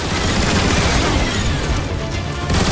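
Turret gun emplacement fire in Transformers: War for Cybertron, a dense, continuous barrage of shots with booming impacts, loud and close throughout with no pauses.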